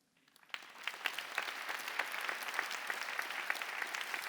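Applause swells quickly from silence into steady, sustained clapping from a large church congregation, filling the room evenly.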